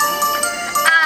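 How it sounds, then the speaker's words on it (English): Cell phone ringtones going off together in a high school classroom: layered electronic melodies and tones overlap loudly and continuously for about a second. "The dreaded cell phone symphony."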